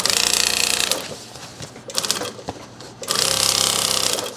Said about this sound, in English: So just baste it on here.